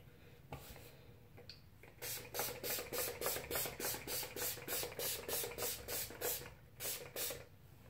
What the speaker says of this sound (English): And then I'm going to spray my face with setting spray.